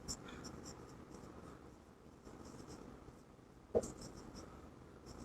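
A pen scratches across paper as accounting notes are written out by hand, a soft continuous scribble close by with one sharper tap partway through.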